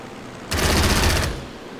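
Planes strafing in the Strategic Mind: Spirit of Liberty strategy game, a loud, dense burst of rapid gunfire that starts abruptly, lasts under a second, then fades into a low rumble.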